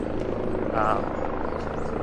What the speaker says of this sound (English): sorry about the helicopter noise